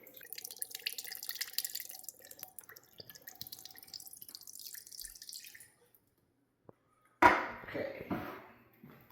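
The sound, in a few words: can of chicken broth poured into crockpot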